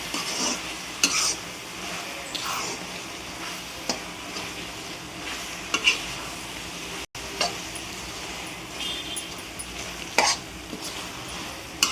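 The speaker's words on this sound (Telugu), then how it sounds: "ఫ్రెష్గా రుబ్బుకున్న అల్లం వెల్లుల్లి పేస్ట్ వేసి బాగా కలుపుకోవాలి." Freshly ground ginger garlic paste is stirred into a hot pan for paneer curry, producing a soft ongoing sizzle with intermittent scraping and clinking of a spoon against the pan, close and moderately quiet, with no voices.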